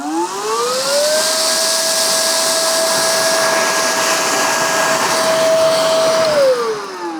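A Hychika vacuum cleaner spins up with a rising whine that settles into a steady high tone over a broad airy rush, then winds down at the end, loud and close.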